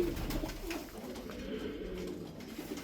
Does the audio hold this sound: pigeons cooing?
yes